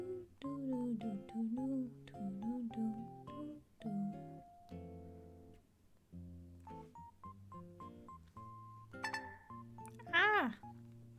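A mobile phone rings during a live stream, a bright melodic electronic ringtone playing its repeating tune loudly and close, with a short spoken exclamation near the end.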